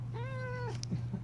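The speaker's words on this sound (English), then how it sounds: "Such a bad kitty." A cat lets out a single drawn-out meow, clear and fairly close, over a low steady hum, followed by faint rustling.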